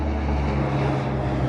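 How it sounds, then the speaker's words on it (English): An airplane flying past during the National Day Parade in Singapore, heard as a steady, loud engine drone with a low humming tone that holds for the whole short stretch, with no talking. "What was the plane that just flew past?"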